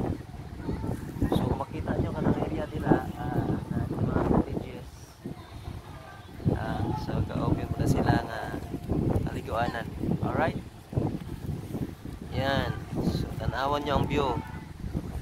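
Sea wind at a beach around five in the afternoon, a steady rushing buffet against the microphone beneath continuous close talking.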